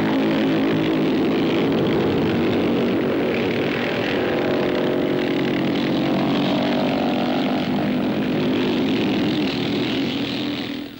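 A pack of scramble motorcycles race off the start and uphill, their engines blaring together in a loud, continuous droning roar with shifting overlapping tones that holds steady for the full eleven seconds.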